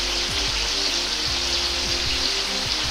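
Corn and edamame kakiage fritters deep-frying in oil, a steady, dense bubbling sizzle heard close and continuous, with faint low tonal hum underneath.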